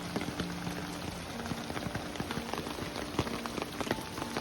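Steady rain pattering onto a surface and splashing into rain barrels of a home rain harvesting system, a dense, even patter of drops close by with no voices.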